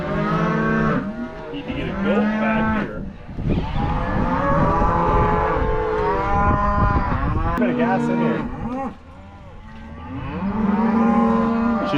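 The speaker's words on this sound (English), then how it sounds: "we got all the calves sorted off and in here" Roughly seventy calves sorted into a pen on a South Dakota cattle ranch, mooing loudly and repeatedly in overlapping bellows close by, while someone talks among them.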